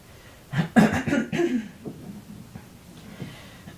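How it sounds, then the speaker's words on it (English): A few rough coughs burst out close by in quick succession, followed by quieter breathing. "Morning cough."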